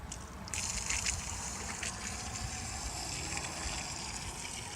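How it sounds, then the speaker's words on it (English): Water from a well-fed faucet starts abruptly and runs in a steady, close rushing stream, alone without talk. "So I turn on the faucet. Now comes the water."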